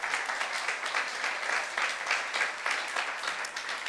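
Church congregation at a youth service applauding together, a soft, even wash of clapping heard from a distance across the room.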